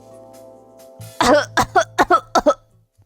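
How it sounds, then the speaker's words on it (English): A rapid fit of harsh coughs from a video game character, about seven in quick succession, loud and close, trailing off into quiet breathing and panting. "After a coughing fit, Ray shakes her head and pants"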